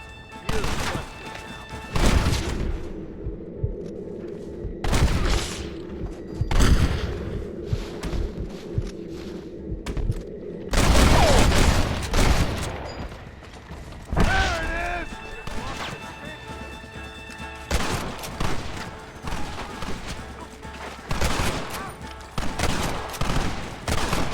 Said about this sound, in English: You and I'll provide the cover fire